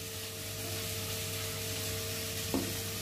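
Potatoes and mushrooms frying in a pan give a steady, even sizzle with a low background hum, and a single soft scrape of stirring comes near the end, no talking.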